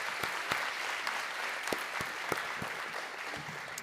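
Audience at a State of the City 2024 event applauding for an award sponsor, steady crowd clapping at moderate distance with a few sharper individual claps standing out.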